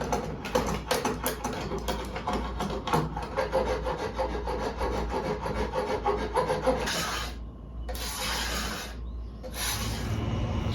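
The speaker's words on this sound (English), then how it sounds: "Smooth down the nodes of the bamboo on the back here" Bamboo nodes on the back of a take-down bow being smoothed down with a rasp or file, a steady close scraping and rubbing that runs continuously, with brief pauses between strokes near the end.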